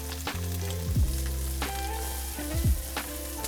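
Onions hit hot oil in a pan and sizzle steadily, with a few louder scraping stirs breaking through, while a low mechanical hum runs underneath.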